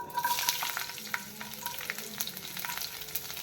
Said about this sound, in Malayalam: ഇനി നമുക്ക് വെളുത്തുള്ളി ഇട്ട് കൊടുക്കാം